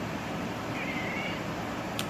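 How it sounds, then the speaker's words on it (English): A single short cat meow, faint and somewhat distant, over a steady background hum. "I don't know if you just heard that meow"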